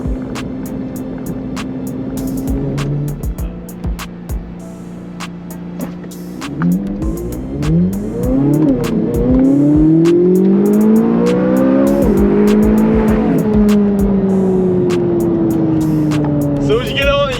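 A 2024 Corvette Z06 revs and accelerates hard, its engine note sweeping up through repeated gear pulls, loud and close, with someone talking excitedly over it.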